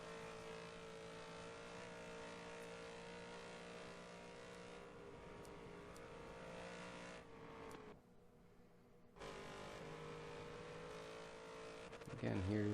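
Mustang race car engine in Forza Motorsport 7 racing at Bathurst, a steady sustained drone with other cars around, briefly dropping away near the end before returning loud.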